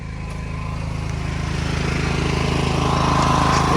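A portable generator runs steadily, a loud, close, continuous engine drone with even pulsing, alone without talk.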